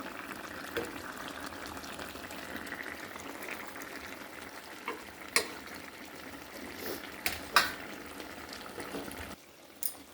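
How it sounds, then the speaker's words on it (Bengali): Bata labeo fish curry with pui greens simmers in a pot, a steady low bubbling hiss with occasional sharper pops and clinks, close and fairly quiet. "দেখুন আর একটু হবে, মাছগুলো সিদ্ধ হবে।"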